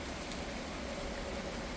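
Steady rain falls outdoors as a dense, even hiss of drops, constant and moderately loud throughout with no other sounds standing out.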